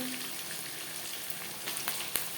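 Onions and tomatoes frying in oil for chicken biryani, giving a steady, even sizzle throughout. A few faint clicks from a utensil come near the end.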